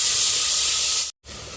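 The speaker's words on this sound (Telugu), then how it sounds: "మసాలా అయితే మంచిగా అయితే వేయించుకుందాము" Masala spices fry in hot oil in a cooker, a steady loud sizzling hiss that cuts out briefly and then resumes.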